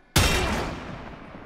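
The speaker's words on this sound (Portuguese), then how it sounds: "Primeiro tiro do pente." A single loud, close gunshot from the video game Warframe, the first shot of a magazine, cracks out suddenly and its echo fades away over about a second.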